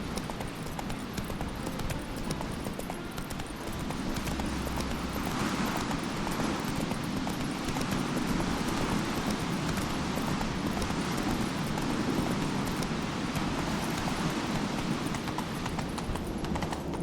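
Roach, a horse in The Witcher 3 on Skellige, galloping with rapid, steady clip-clopping hooves that run loud and continuous throughout, close up over a rushing background.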